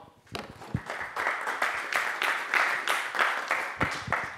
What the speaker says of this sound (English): let's give another round of applause to Fedor